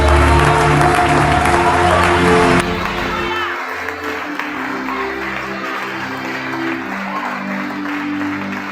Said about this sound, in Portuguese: Recebam com vossos aplausos o nosso pregador